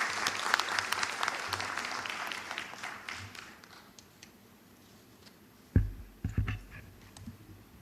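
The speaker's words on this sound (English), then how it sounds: "Please welcome him with a warm round of applause." At a collegiate research competition, a keynote speaker is welcomed with fairly faint, distant audience applause that dies away after a few seconds, followed by a few soft thumps and handling noises.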